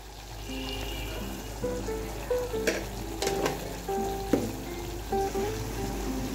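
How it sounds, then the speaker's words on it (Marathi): Mutton pieces sizzle and crackle steadily in a hot pan while cooking a dry sukka mutton dish, with a few sharp clinks and scrapes of stirring over the frying. "याला आता थोडंसं आम्ही फ्राय करून घेतोय।"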